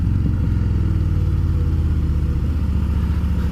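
A Harley-Davidson Fat Boy motorcycle idles and rolls slowly through a tight U-turn, making a loud, steady low engine rumble that stays close and even throughout, with no talking.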